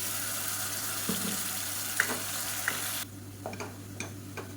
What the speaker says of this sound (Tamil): இப்போ நம்ம அரைச்சி வச்சுருக்க இஞ்சி பூண்டு வெங்காய பேஸ்ட்டை சேர்த்துக்கலாம் இது நல்லா பச்சை வாசனை போக வதக்கிக்கலாம்